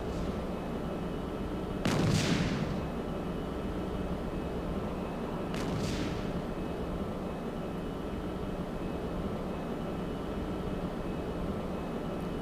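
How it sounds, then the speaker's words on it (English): Light anti-aircraft flak bursts in the Strike Fighters 2: Vietnam flight game, two muffled distant booms several seconds apart over a steady aircraft engine drone. "we're getting light flak coming from somewhere"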